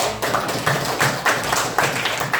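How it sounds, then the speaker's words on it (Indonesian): Students clap their hands in a school classroom, a rhythmic run of quick, fairly close claps pulsing in rough beats without talk. "tepuk tangan dulu buat."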